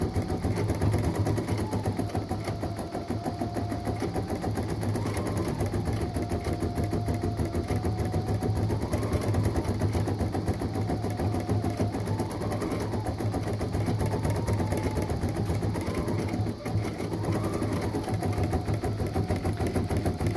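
An embroidery machine stitching flowers runs continuously and loudly, a steady mechanical whir and rapid needle chatter with a faint pitch that rises and falls periodically as the hoop moves, with no voices.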